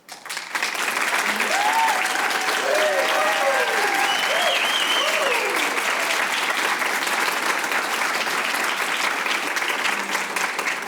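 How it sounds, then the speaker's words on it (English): Audience at a literary magazine reception and reading applauding the editorial team: steady, dense clapping from a crowd that holds evenly loud for about ten seconds, with faint voices underneath. "let's have a round of applause for our team and their continuous hard work on this issue"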